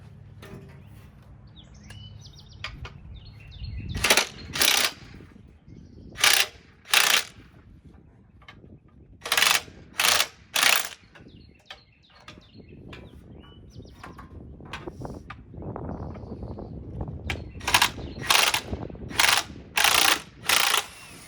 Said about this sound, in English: Go get an impact and we'll zap this off.